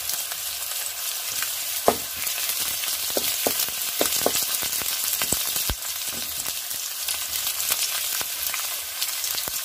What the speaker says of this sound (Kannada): ಅದ್ರ ಜೊತೆಗೆ ಕರಿಬೇವು ಮತ್ತು ಒಣಮೆಣಸಿನಕಾಯಿ ಕೂಡ ಹಾಕ್ತಾ ಇದ್ದೀನಿ